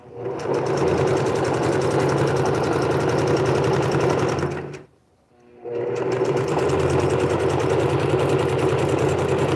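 A sewing machine stitching yellow ruffles runs in a fast, steady mechanical rattle, stopping for about a second midway, then starting up again at the same even pace; close and loud with no talking.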